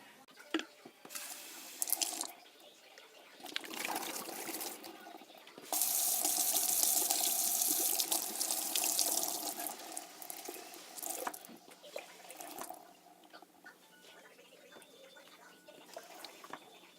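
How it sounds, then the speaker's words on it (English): Running tap water pours into a small pet's water bottle, a steady gushing stream with a louder filling stretch in the middle, then dripping and handling noises near the mic, with no talking. "So I just dumped it out and refilled it."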